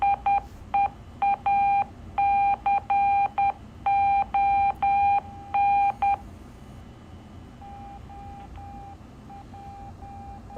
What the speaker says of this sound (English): what you hear is called packet collision.